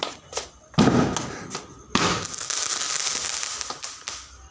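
Firecrackers set off during Karthigai festival celebrations burst with a few sharp, loud bangs, followed by a sustained crackling and hissing spray that fills the rest of the moment.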